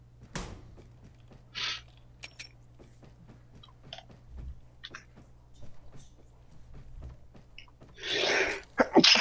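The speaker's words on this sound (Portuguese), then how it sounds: "É somente um espirro não programado." One loud, abrupt sneeze bursts out near the end, during a Call of Duty Mobile livestream session, after scattered quiet clicks and mouth noises.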